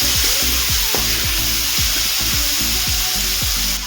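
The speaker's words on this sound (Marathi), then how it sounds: "त्या आपल्याला याच्यामध्ये आता घालून घ्यायच्या त्याला एक दोन मिनटं परतून घ्यायचं" Mixed vegetables for a Maharashtrian bhogi bhaji stir-fry in hot oil with a loud, constant sizzle, broken by repeated scraping strokes of a spoon in the pan at an irregular rhythm.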